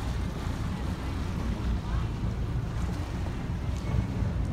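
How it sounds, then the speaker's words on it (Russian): A small motor yacht moors at the Fremantle waterfront after a trip. A low engine rumble and lapping water sit under steady wind buffeting the microphone, at moderate loudness throughout. "Вот моторная яхточка причаливает после прогулки."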